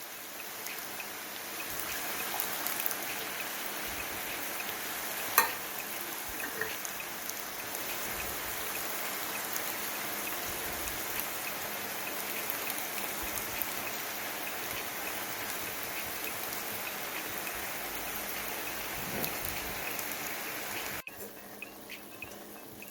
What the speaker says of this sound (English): Now that our meat is all brown, we're going to add our tomato sauce